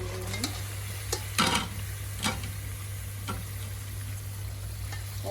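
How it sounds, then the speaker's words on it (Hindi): Mutton fries over high heat in a pan, a steady low sizzle with a constant hum beneath and occasional scraping clinks of a spoon stirring the meat. "और इसको थोड़ा सा भून लें तेज आंच पर"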